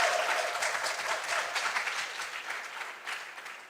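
An audience at a junior science and maths quiz championship applauds the contestants with sustained, dense clapping that tapers slowly over several seconds, with no speech over it.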